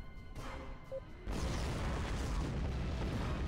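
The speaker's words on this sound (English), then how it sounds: "And then we go with a another spread of torpedoes" A deep boom erupts partway through a Star Trek Online space battle as a torpedo spread hits, followed by a sustained, loud rumbling wash of explosion noise.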